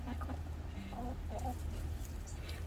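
Backyard homestead chickens clucking softly at close range, a few short calls over steady low background noise.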